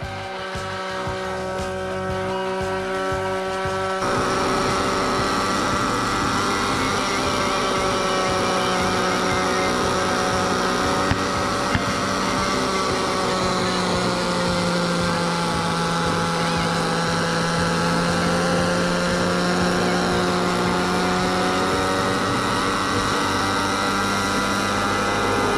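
Nitro RC helicopter engine whining at a high, steady pitch, loud and close, starting up after a few seconds of lower rough running and holding for the rest with slight pitch drifts.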